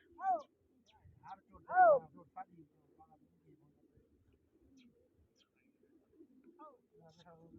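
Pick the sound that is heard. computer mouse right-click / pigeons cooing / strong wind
pigeons cooing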